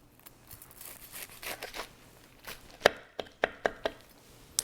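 A knife saws through a crisp, crusty pesto grilled cheese sandwich, with soft scraping followed by several sharp crunchy cracks close to the mic.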